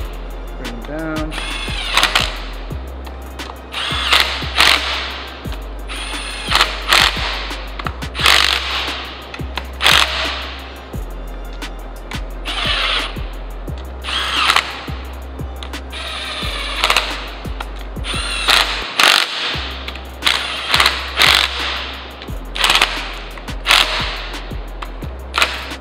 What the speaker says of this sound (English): Take our impact, bring them down.